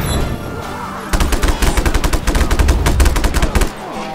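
Rapid bursts of enemy automatic gunfire in Just Cause 3, loud and close, a dense rattling volley of shots lasting a couple of seconds after a quieter ambient stretch.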